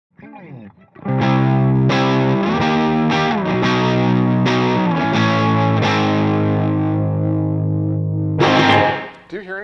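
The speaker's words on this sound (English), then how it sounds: "give me the bridge pickup, Scotty" A PRS S2 McCarty 594 electric guitar on its bridge pickup plays distorted chords and notes, loud and sustained after a brief voice at the start, with a final strum.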